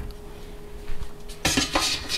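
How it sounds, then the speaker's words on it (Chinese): A metal steamer tray is set down into a pot half filled with water for steaming mantou buns, giving a quick cluster of close, bright metallic clanks and rattles after a quiet moment. "那我们把它放一半的水，那把蒸盘放进来"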